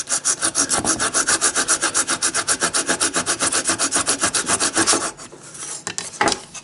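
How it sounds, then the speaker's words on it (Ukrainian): A knife carves a notch into a piece of wood for a handmade rune set: close, rapid back-and-forth scraping strokes in a steady rhythm for about five seconds, then a pause and a couple of faint knocks. "беремо ніж і починаємо надріз робити"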